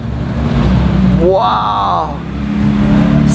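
A Liberty Walk wide-body Nissan GTR engine revs loud and close in a single sharp rising blip that falls away, amid steady engine and crowd noise at a car meet, with a voice exclaiming.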